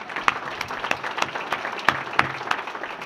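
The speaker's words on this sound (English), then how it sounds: "So give yourselves a round of applause as well." Audience applause at a Hall of Fame induction ceremony, a steady wash of many hands clapping with sharper individual claps popping out, moderately loud and filling the room, with no talking over it.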